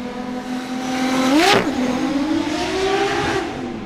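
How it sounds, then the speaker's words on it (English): Toyota GT86 drift car with a 900 horsepower 2JZ engine at a Sochi drift qualifying event, a loud close engine that revs up to a peak, drops sharply, then holds a steady roar as it passes. "Throttling of Toyota GT86 with 900 horsepower to JZ"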